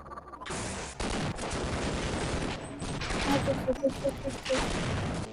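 Rapid video-game gunfire in Half-Life, a dense burst of repeated shots running nearly the whole stretch, loud and close, with overlapping voices and game effects mixed in.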